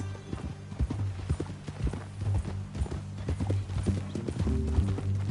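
Horse hooves clip-clop in a steady walking rhythm, close and fairly soft, with a low rumbling background, from the video game Red Dead Redemption 2.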